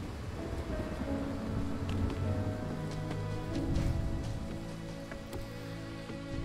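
Steady patter of rain in a stormy swamp in Ori and the Will of the Wisps, a continuous soft wash of drops beneath low tonal game music, no voices.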